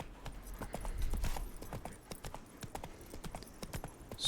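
Hooves of Geralt's horse Roach clip-clop in a steady walking rhythm, close and moderately loud, in The Witcher 3: Wild Hunt Blood and Wine expansion, with no talk over them.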